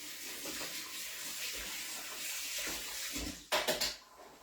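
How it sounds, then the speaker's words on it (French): A slightly domed spoon is rinsed under a running kitchen tap while baking goat cheese and honey tartlets, giving a steady close hiss of flowing water that ends in a brief burst of louder splashing. "Là, je vais la rincer"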